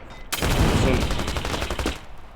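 Rapid automatic gunfire in the shooter game Standoff, a dense burst of close, loud shots lasting about a second and a half.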